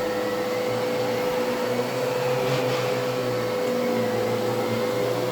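A new-old-stock Riccar Impeccable canister vacuum cleaner runs steadily with a smooth, even motor hum and a constant airflow whoosh, fairly loud and uninterrupted throughout, with no talking.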